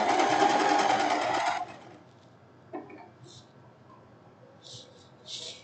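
A sewing machine stitches a silk blouse in a close, steady mechanical whir lasting under two seconds, then stops, leaving a quiet room with a brief knock and faint high chirps.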